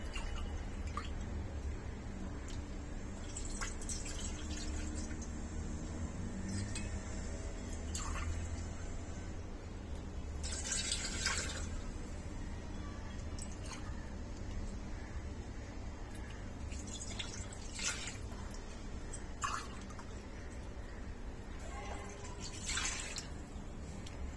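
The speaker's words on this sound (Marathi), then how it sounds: "तर प्रत्येक भांड्यामध्ये 2-2 पेले असं चिकाचं दूध आपण घालून घेऊया।" Colostrum milk is poured into pressure cooker vessels, a soft continuous liquid trickle with scattered drips and splashes, fairly faint and steady, with no talking.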